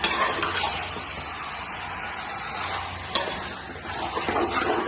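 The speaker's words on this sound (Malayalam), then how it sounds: "നമ്മൾ ഇളക്കൊണ്ടേയിരിക്കും. നന്നായിട്ട് നമുക്ക് ഇളക്കി കൊടുക്കണം." Chicken curry being stirred in a hot pan, a continuous sizzle with occasional scraping strokes of a spoon against the metal, fairly loud and close with no talking.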